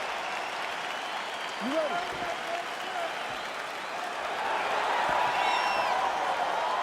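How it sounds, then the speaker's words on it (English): Arena crowd in a UFC 4 fighting video game applauds and cheers steadily throughout, a dense roar of clapping that swells toward the end, with a referee's brief spoken line over it. "crowd getting excited as this fight gets underway"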